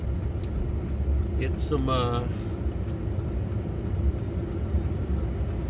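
A truck's engine rumbles low and steady while driving, with a brief spoken phrase over the continuous road noise.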